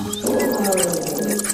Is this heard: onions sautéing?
no